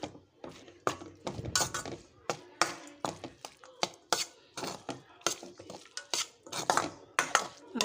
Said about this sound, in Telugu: ఈ అన్నంని ఇప్పుడు ఇందులోకి వేసి కలుపుతాను